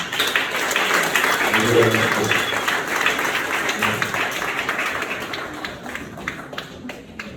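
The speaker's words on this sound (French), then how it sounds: "pour qui je demande de frénétiquement battre les mains et acclamer" An audience applauds at a student thank-you speech for a theological training seminary in Brussels, with dense steady clapping that slowly thins out, and a voice speaks at the start.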